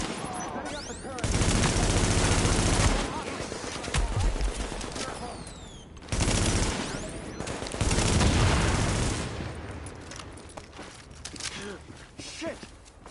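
Sustained automatic turret fire in The Division during an Outbreak global event, loud rapid bursts that keep going across the clip, with a voice talking over part of it.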